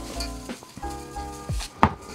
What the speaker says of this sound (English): You're going to be like massaging your vegetables, making sure they all have a nice coating of salt.